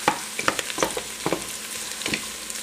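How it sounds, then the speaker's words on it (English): Onions stir-fried in a pan for pancit canton: a steady sizzle under repeated scraping and tossing strokes of a utensil, moderately close with irregular rhythm. "Keep moving it around so the onions don't brown too quickly"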